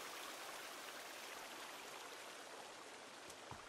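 Waterfall in the survival game Sons of the Forest, a steady broadband rush of falling water, continuous and fairly faint, with no other sounds.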